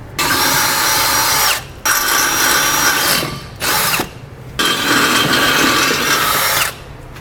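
A power drill whines loudly in three long bursts with short pauses between, grinding steadily through metal up close.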